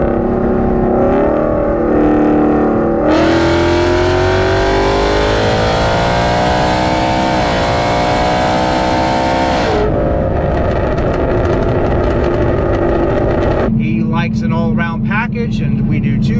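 A supercharged 2022 Ford Mustang GT on the road, its engine note steady and loud throughout, with a rising harmonic sweep as it pulls through the gears and a shift in tone near the end; the car is heard close with talk over it.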